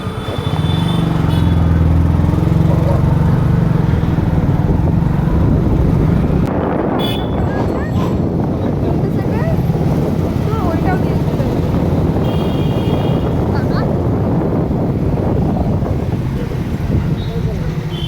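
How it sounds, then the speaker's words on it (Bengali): A motorbike rides along a nearly empty road at night, its engine a steady, loud drone blended with heavy wind rush against the microphone for the whole stretch. "আবার বাইকে করে যাচ্ছি"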